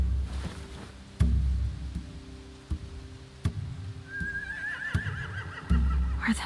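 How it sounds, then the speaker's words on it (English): Horses whinny and neigh in The Walking Dead: The Final Season video game, a rising whinny cutting through a low rumble, with heavy hoof thuds and clip-clops at intervals. "They have horses."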